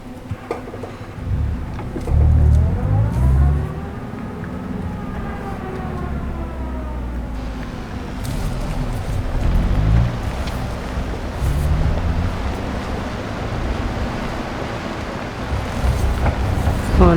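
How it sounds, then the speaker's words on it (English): A car engine revs hard while the car reverses, with the pitch climbing and falling in long sweeping surges over a steady low rumble. It is loud and close and continues throughout. "Let's drive a little bit in reverse, shall we?"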